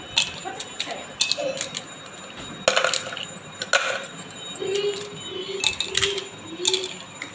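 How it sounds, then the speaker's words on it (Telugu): Ice cubes dropped into serving glasses for a summer sharbat, a scattered series of close clinks and clattering taps in small bursts, with faint soft voice sounds between them. "దీంట్లో ఐస్ క్యూబ్స్ వేస్తున్నాను."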